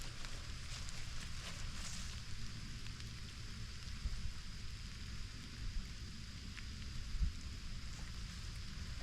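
Steady rain at an old cemetery in Kirkwood Township falls as a faint, even hiss with a low rumble underneath and no clear voices.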